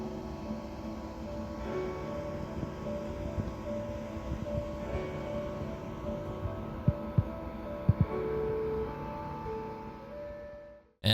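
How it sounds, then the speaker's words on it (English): A Vibofrost slushie machine freezing a large batch gives off a steady, gentle hum with a low tonal drone, occasional faint clicks and knocks, continuous at moderate level before cutting off at the end. "Even while freezing a large batch, the sound is pretty subtle with a gentle hum, rather than an overpowering sound like a blender."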